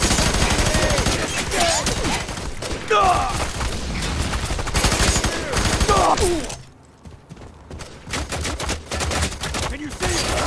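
Covering gunfire rattles through FEAR 3 combat in the slums as sustained automatic bursts, loud and close, broken by a brief lull before more shots. Soldiers shout over the firing.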